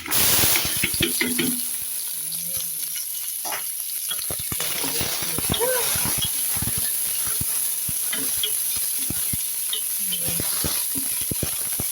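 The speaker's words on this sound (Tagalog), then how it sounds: "Ilagay na natin yung sibuyas sa luya." Onion and ginger sauté in a pan for vegetable pinakbet, giving a steady close sizzle and hiss with occasional stirring scrapes and faint voices in the background.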